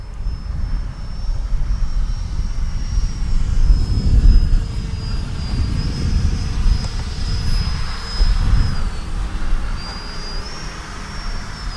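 An FMS Rafale 64mm electric ducted-fan RC jet flies overhead without landing gear, its high whining fan tone holding steady and shifting slightly in pitch as it passes, with a rushing roar swelling and fading at moderate distance outdoors.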